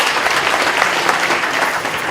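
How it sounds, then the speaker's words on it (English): A crowd at a school re-classification launch gives Ricky a warm round of applause, dense and fairly loud clapping from many people that holds steady throughout without talk. "Can we give a warm round of applause for"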